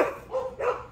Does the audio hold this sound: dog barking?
yes